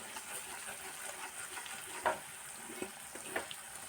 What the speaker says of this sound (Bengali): তেল লবণ দিয়ে আমি মশলাটা লাল করে ভেজে নিয়েছি।